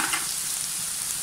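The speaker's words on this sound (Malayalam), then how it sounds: "പച്ചമുളക്, വേപ്പല, ഇഞ്ചി, വെളുത്തുള്ളി ഇതെല്ലാം നമ്മളിട്ടു. നമുക്കിത് നല്ലോണം വഴക്കണം, വാടണ വരെ വഴക്കണം." Green chili, curry leaves, ginger and garlic sizzle in hot oil in a pan for a Kerala-style pork curry, a loud, steady, close frying hiss with faint stirring and no voices.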